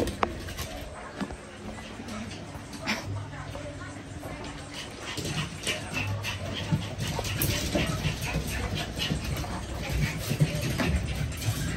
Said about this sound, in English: how are the puppies?